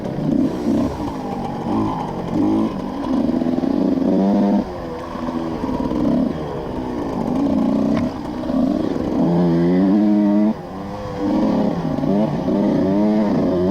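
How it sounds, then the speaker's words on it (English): Vintage racing motorcycles lapping a track at an AHRMA national race weekend at Renlow Park, engines droning and revving continuously with gear changes, loud and sustained throughout. "This is a good virgin first lap for Anthony here."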